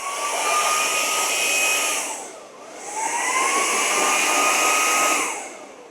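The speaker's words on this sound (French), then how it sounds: "Dès qu'on pose l'aspirateur dessus, automatiquement ça se recharge et évidemment ça se vidange." A Jigoo V700 cordless vacuum sits on its docking station as the dock automatically empties the dust bag, giving a loud, steady whooshing suction roar in two bursts with a brief dip between them and no talking.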